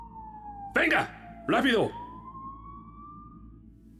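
A siren holds a steady wail behind the alley scene, with faint traffic hum beneath it, while two loud shouted words cut through in the foreground.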